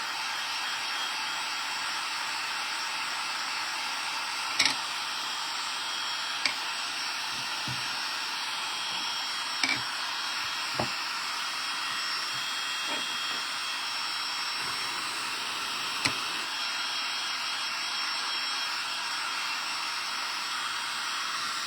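A hair dryer blowing on chalk paste over a lemon tray, a loud steady whooshing hiss that runs continuously with a few faint knocks and clicks.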